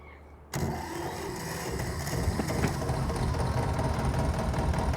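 A farm tractor's engine catches on the first attempt after a short quiet moment, then settles into a loud, steady, rumbling run that stays strong and close for the rest of the clip, with no one speaking.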